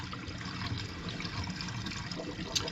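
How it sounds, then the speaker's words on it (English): Water from a jug is poured into a camper van's freshwater tank while parked in the desert, a soft continuous gurgling trickle, fairly quiet and close, with no talking. "I didn't even look how much water we had left, but I'm going to be putting in 8 gallons here"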